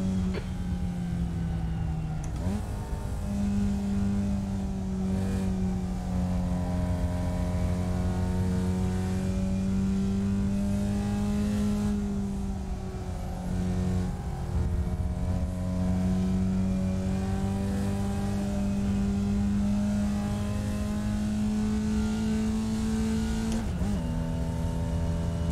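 The engine of a Formula Vee race car in iRacing at Lime Rock Park drones steadily and loudly for the whole stretch, its pitch rising and dipping with brief drops at gear changes.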